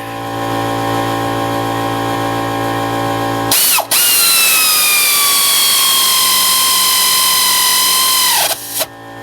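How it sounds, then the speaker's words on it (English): An air ratchet drives a brake bolt on a 2006 Honda Accord. After a steady hum, one loud whirring run of about five seconds ends in a short final burst. "Gonna take the air ratchet."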